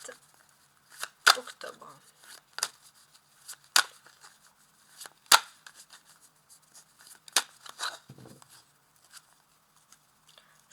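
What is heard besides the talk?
cutting a deck of tarot cards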